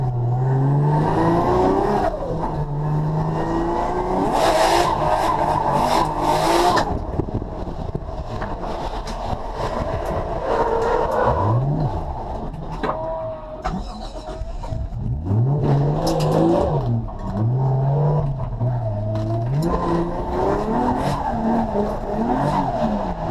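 A race car with a swapped-in 1JZ engine revs and accelerates hard around a track, loud and close, its pitch climbing and dropping through repeated gear shifts, with bursts of wind noise.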